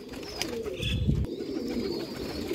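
Rare Sialkoti Chuhe pigeons on a rooftop in Sialkot give low, soft cooing, with a fuller coo swelling near the middle against a steady outdoor background and no voices.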